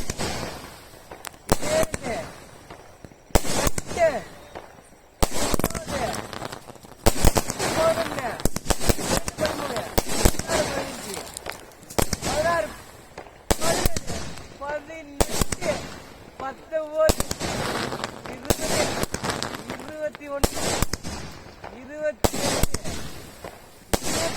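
Firecrackers burst in rapid irregular volleys of sharp cracks and pops, loud and close, with voices talking and calling between the bangs.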